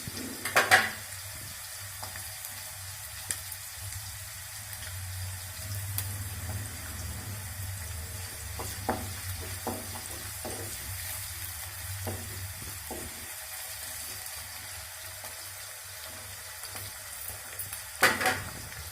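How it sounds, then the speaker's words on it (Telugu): Chopped green chillies and ginger paste fry in a pan for chicken fry, giving a soft, steady sizzle broken by a few light stirring taps and louder scrapes at the start and end, with no voices. "ఇది కొంచెం ఫ్రై అవ్వాలండి అవి కొంచెం ఫ్రై అవ్వాలండి"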